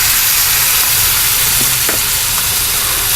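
Shrimp, cashews and vegetables stir-fried in a hot pan, a loud continuous hissing sizzle close up with a few faint scrapes of the utensil.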